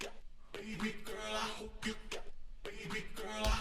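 A sung vocal line in a funk house remix, layered with copies an octave below and an octave above so it sounds like a crowd singing in unison, with phrases broken by short gaps, loud and dense, with no talking.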